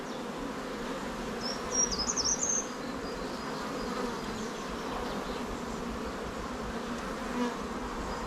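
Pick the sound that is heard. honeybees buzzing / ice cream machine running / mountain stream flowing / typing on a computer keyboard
honeybees buzzing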